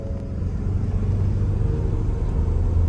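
A pickup truck towing a heavy trailer accelerates with a loud, steady low engine and road rumble that holds constant throughout, close and with no speech.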